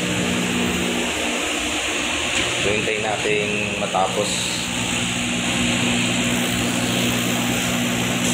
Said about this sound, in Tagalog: Tahimik naman itong machine, yan lang yung ingay niya.